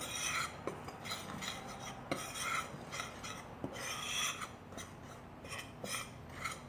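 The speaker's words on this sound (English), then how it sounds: "we're going to give this a stir to make sure everything again is well incorporated in there" A spoon scrapes and rubs through dry banana nut muffin batter ingredients in a bowl, a close rasping stir in irregular strokes with a few sharper clicks against the side, no voices.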